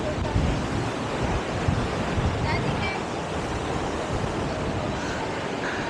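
Strong wind roars and buffets the microphone continuously at Bantay Abot Cave on the coast of Pagudpud, Ilocos Norte, with a surf-like wash underneath and no clear talking.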